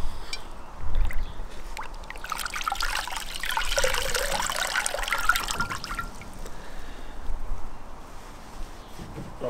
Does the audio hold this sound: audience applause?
no